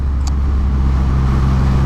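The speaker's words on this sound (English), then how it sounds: "This will be a second gear pull." A Triumph Rocket motorcycle pulls hard in second gear, giving a loud, close, steady deep engine roar that holds without a break and with no talk over it.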